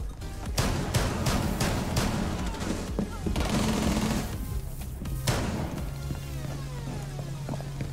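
Bursts of gunfire in Rainbow Six Siege as attackers shoot into a room, with sharp scattered shots and dense volleys, loud and close, mixed with a voice speaking now and then.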